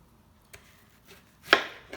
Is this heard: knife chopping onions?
yes